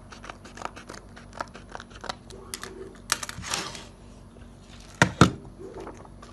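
Scissors snip through stiff plastic sheet in a series of short, crisp cuts, with a louder crinkling snap near the end.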